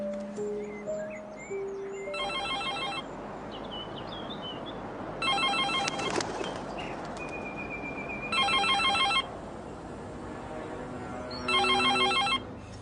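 A telephone rings unanswered indoors, sounding four evenly spaced electronic trilling bursts with long gaps between them, over a steady background with faint melodic tones early on.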